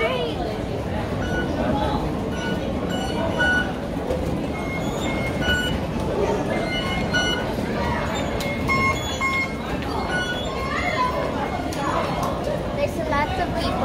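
A crowded metro station in Hong Kong, with rail rumble and squealing train noise mixing with a dense din of chatter and people talking nearby throughout.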